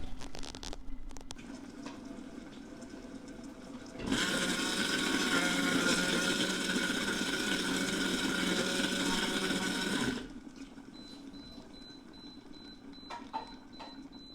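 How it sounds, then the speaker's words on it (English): Philips Soupmaker blending apples runs as a steady loud whir for about six seconds, starting and stopping abruptly, with quieter background noise around it; the done beeps are not clearly evident. "the last blend that you heard is the sound you want to hear, and then when it gives you those beeps, that means it's done"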